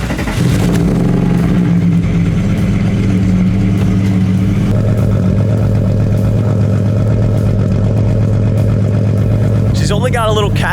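A Volkswagen Cabriolet VR6 engine with a catback exhaust cranks and catches, then settles into a steady, rumbling idle that runs loud and continuous close by, with a voice speaking over it.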